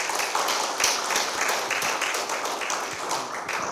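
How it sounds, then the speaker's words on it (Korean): Dense applause from a lecture audience welcoming a history professor at a talk on Incheon's independence movement, steady and sustained throughout with sharp overlapping claps filling the room. "뜨거운 박수로 좀 부탁드립니다."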